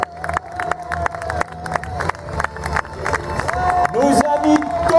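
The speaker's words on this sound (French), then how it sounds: "Allez, sous la musique, on applaudit bien fort les Cadillacs." A crowd at a live car stunt show claps and cheers under music, rhythmic applause building louder toward the end while an announcer speaks over the noise.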